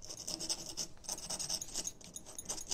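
Quick, close rasping strokes of a small piece of sandpaper rubbing back and forth on an apple juice bottle in a steady rhythm, soft and scratchy with no voices.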